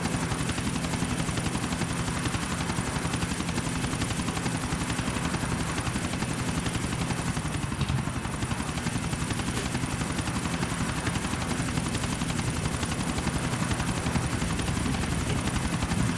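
Helicopter in the video game GTA 4: The Ballad of Gay Tony, a dense, steady rotor roar filling the whole stretch with constant chopping and no breaks, loud and close.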